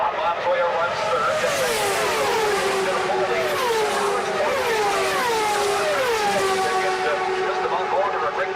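Race cars at the 2000 Michigan 500 scream past one after another, each engine whine dropping in pitch as it passes, in a continuous loud stream of traffic with a commentator talking over it.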